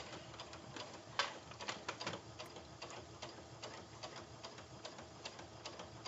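A sewing machine back stitches along a zipper pouch, running in a steady rapid mechanical ticking chatter at close range, fairly quiet, with no speech.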